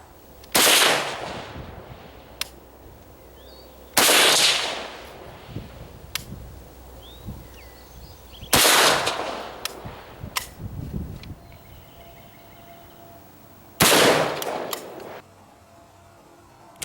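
Four loud, sharp rifle shots from a WASR 10/63 with a 16-inch barrel firing 7.62x39 123gr FMJ rounds into ballistics gel, spaced several seconds apart, each with a ringing outdoor echo tail and faint clicks between.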